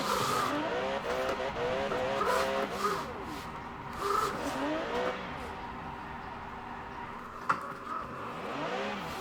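A high-revving V12 engine of an Aston Martin Superleggera in the video game Forza Horizon 4 howls and rises and falls repeatedly with squealing tires, the car being drifted with continuous throttle changes.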